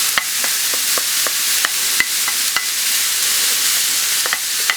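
Two pounds of ground beef and a small chopped onion fry in a pan over medium-high heat, giving a steady loud sizzle broken by repeated sharp scrapes and taps of stirring, with no talking.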